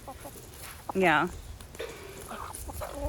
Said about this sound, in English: You can see me feeding the chickens an apple.